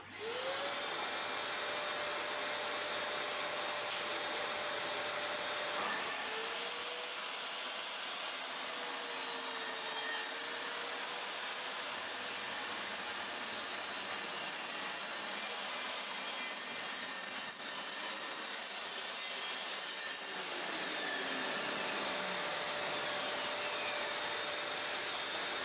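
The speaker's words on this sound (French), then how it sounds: "On est sur de l'OSB en 18 mm. On va également couper pour voir." A saw blade cuts through 18 mm OSB board, a steady loud whine and rasp held for around fifteen seconds before the pitch drops as the cut ends.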